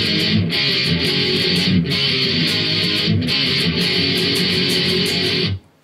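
Distorted electric guitar playing a riff in a full-band jam with drums, loud and steady, with cymbal-driven accents throughout before cutting off abruptly at the end.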